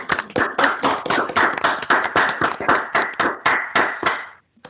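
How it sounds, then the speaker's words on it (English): A small online group claps together to close a volunteer training call, a quick run of distinct, uneven hand claps over about four seconds, close and fairly loud, fading out at the end with no talking. "A last clap before we go."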